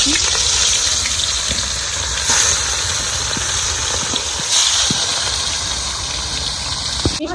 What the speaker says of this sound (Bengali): তো এখানে তেল গরম হয়েছে আর এখন মাছ দিয়েছি